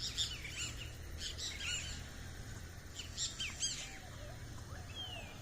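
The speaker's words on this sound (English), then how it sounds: "It's awesome too how you can hear the birds." Outdoor birds chirp and tweet in short scattered bursts over a low steady ambient rumble, with no talking.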